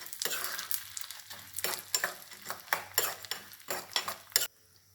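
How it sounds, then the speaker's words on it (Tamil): Chana dal and dried red chillies roasting in a pan for idiyappam, with a light sizzle under a run of sharp spatula scrapes and clinks that stops abruptly near the end. "கடலைப்பருப்பு, காஞ்ச மிளகா, இது எல்லாத்தையும் நல்லா சவக்க வறுக்கணும்."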